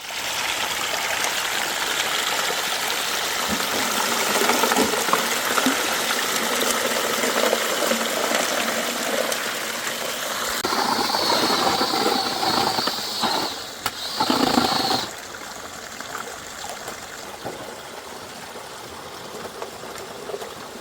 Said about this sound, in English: my little pump's just shut down